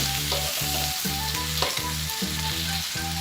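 Kaşar cheese sizzling on a hot griddle for an İzmir kumru sandwich, a loud, dense frying crackle with a pulsing, rhythmic undertone, close and continuous with no voices.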